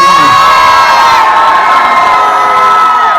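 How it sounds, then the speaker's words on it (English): A sold-out concert crowd at a hip-hop show roars and cheers loudly and continuously, with high-pitched screams and whoops filling the venue up close. "Make some noise"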